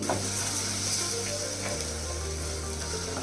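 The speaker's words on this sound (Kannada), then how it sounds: "ಮಾವಿನಕಾಯಿ ಫ್ರೈ ಆಗಿದೆ" Grated raw mango frying in a pan for mango rice, a loud steady sizzle heard close up and alone, with no voices.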